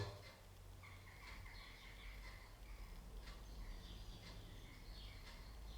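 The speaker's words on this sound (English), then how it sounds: "hear the birds singing outside" Faint birdsong from outdoors, distant chirps and calls over a low steady hum.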